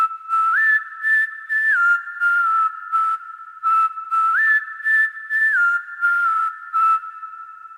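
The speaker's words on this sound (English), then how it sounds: "So for this song, I chose this whistle sound that I found in one of my libraries." A synthesized whistle from a sound library plays a simple, catchy three-note melody in short repeated phrases, clean and alone with no other sounds.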